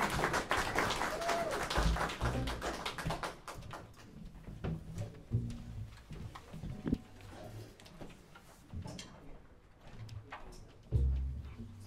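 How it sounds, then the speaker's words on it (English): An audience at a faculty jazz recital claps in a quiet, scattered burst that thins out into occasional claps and small knocks. "Let's give a round of applause for Charlie, Gerardo, and Joshua here."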